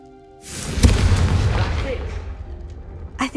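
A Confringo fire spell blasting in the Hogwarts Legacy video game, a single heavy booming burst that rolls off over a couple of seconds, followed by a short voice near the end.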